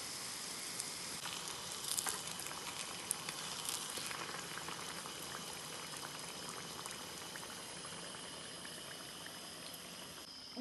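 Samosas deep frying in hot oil, a steady dense bubbling sizzle that stays even throughout, with a few faint pops and clinks and no talking.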